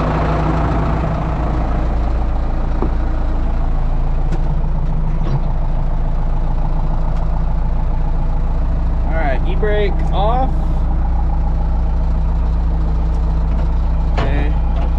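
A Caterpillar wheel loader with a sticking throttle and a large oil leak runs with a loud, steady low engine rumble, while someone speaks briefly over it and a few short chirps and beeps sound midway.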